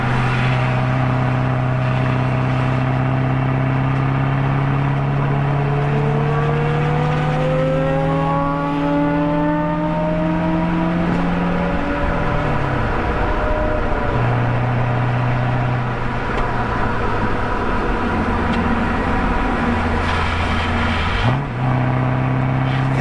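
A race car on a cool-down lap at Road Atlanta, heard from inside the car: loud, steady engine drone with rising and falling pitch as it accelerates and shifts, continuous throughout.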